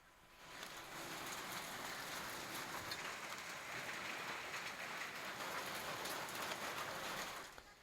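Dense, steady rain falls heavily in Peddapalli district, a continuous even hiss that starts just after the opening moment and holds at moderate loudness until it cuts off at the end, with no talking.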